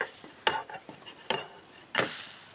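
A pancake cooking in a pan on a camp stove outdoors, with a faint sizzle and a few sharp scrapes and taps of a utensil against the pan.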